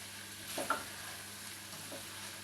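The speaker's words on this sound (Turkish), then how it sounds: "Ben şimdi nohutlarımı ilave edeceğim. Şöyle bir çevireceğim." Chickpeas tipped into a hot frying pan and stirred, a soft scrape and clatter of spoon against pan around one brief louder knock, over a faint steady sizzle; no voices.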